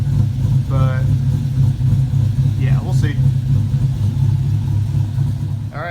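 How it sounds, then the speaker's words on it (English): A pickup truck's engine runs steadily through a bolt-on tailpipe kit, its loud low exhaust drone filling the whole stretch with some echo toward the cab, while a person talks over it. "let me know what you think about the exhaust on the truck"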